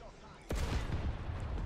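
A heavy tank destroyer cannon in a tank combat video game fires once with a sharp, loud boom, followed by a rumbling, sustained roar and clatter.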